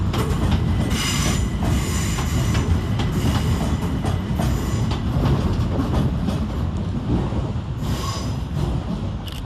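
Trains at London Charing Cross station on Southeastern services, with a steady loud rumble of rolling stock, squealing wheels and clattering rail joints running continuously throughout, no talk.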